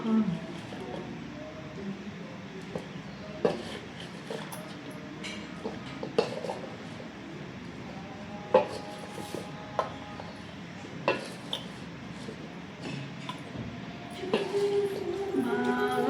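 Chili powder is worked into homemade mango pickle with a utensil, giving quiet, intermittent scrapes and clinks against the vessel over a low steady background.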